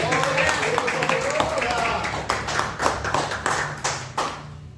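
A church congregation applauds during an evening service, a burst of many hands clapping with sharp individual claps standing out, mixed with voices and tapering toward the end.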